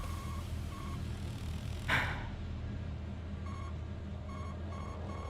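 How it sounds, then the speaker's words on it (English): Beeping from the racing game Le Mans Ultimate: short, evenly spaced electronic beeps repeat over a low engine drone, with one brief loud burst midway. "You hear all the beeping?"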